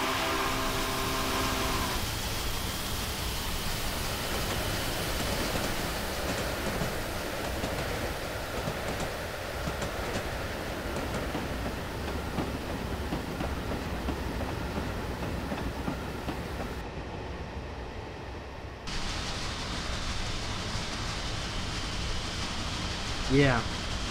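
A locomotive in the Train Simulator 2017 game runs with a steady low rumble and rhythmic rail clatter, broad wind-like noise and a brief dropout near the end, while someone talks over it.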